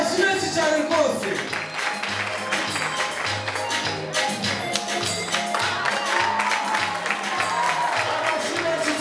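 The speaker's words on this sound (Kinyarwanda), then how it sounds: "amashyi menshi cyane rwose" A church audience claps steadily and loudly, with scattered cheers, while a voice keeps talking over the applause.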